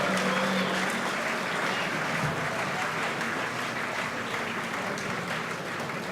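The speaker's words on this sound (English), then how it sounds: "Give yourselves a big round of applause." Dense applause from the audience at a media awards ceremony, steady and fairly quiet, holding a constant level without pause.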